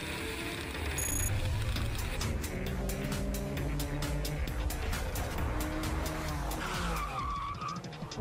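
A Porsche 911 with a PDK dual-clutch automatic gearbox drives hard, its engine note climbing and dropping as gears change quickly, with steady loud mechanical and road noise throughout and no talking.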